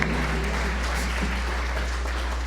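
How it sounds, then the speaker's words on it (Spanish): Congregation applauding at a church service, a steady wash of clapping from many hands, dense and continuous over a low hum. "Fuerte el aplauso a la palabra de Dios."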